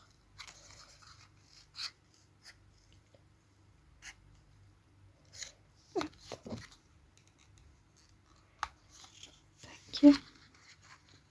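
Scissors snip through card in short, soft, irregular cuts while a paper wolf figure is cut out by hand, the clicks close and faint against near silence.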